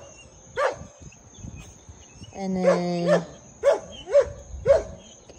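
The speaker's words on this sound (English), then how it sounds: "My dog's having a fit." A dog barks in a backyard garden: six or so sharp, fairly close barks spaced about half a second to a second apart, with a brief spoken phrase and a steady high tone in the background.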